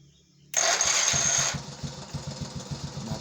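A Honda Astrea Grand motorcycle engine cranks and fires, with a loud burst at startup that settles into a rhythmic idle chug, heard up close with no talking.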